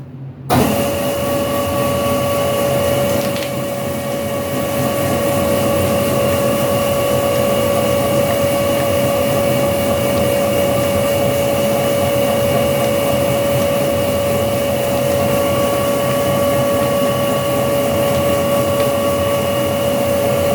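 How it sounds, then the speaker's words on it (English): An electric meat grinder pushes beef through for a further pass onto trays, giving a loud, steady motor drone with a constant whine that holds unbroken for about twenty seconds, with no voices. "Grind it through one more time and throw it back up here and then grind it for the final time onto some trays."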